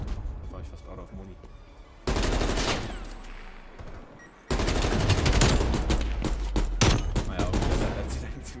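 Dense automatic gunfire in Call of Duty: Black Ops Cold War comes in long loud bursts with rapid overlapping shots, one bout followed by a brief quieter stretch and then another sustained, heavy volley.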